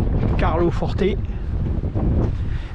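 Strong wind buffets the microphone continuously in an Italian harbour at Carloforte, a dense low rumble under someone speaking in French.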